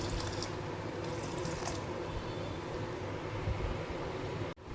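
Leftover water from boiling mangoes poured into a mango mixture for aam panna, a steady close liquid pour with faint drips, ending abruptly.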